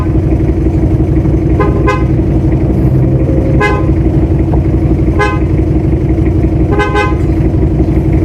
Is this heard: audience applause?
no